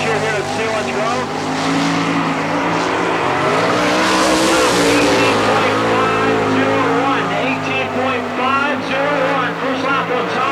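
Todd Racing's Cooper Motors number 25 sprint car roars around the Selinsgrove Speedway dirt track in an All Star Circuit of Champions event, its engine loud and sustained with rising and falling pitch, while an announcer talks over it.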